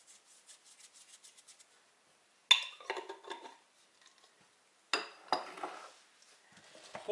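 Herring being stirred with pepper and coriander for autoclave canning, quiet scraping and rubbing strokes in short separated bursts with faint clinks between them.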